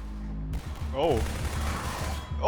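Rapid gunfire bursts in the Half-Life: SUPPRESSED game, loud and clustered over a couple of seconds, with a voice shouting over the shooting.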